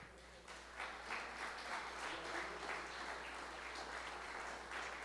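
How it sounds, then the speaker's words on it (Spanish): A church congregation gives a steady round of applause, soft and somewhat distant over a low constant hum, continuing evenly throughout. "Denle un aplauso al Señor"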